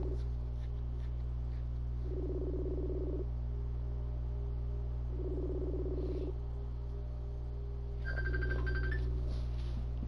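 A mobile phone rings after being called through Facebook Messenger, with a repeating electronic ringtone pulsing in short bursts over a steady low hum, and a brighter chime near the end.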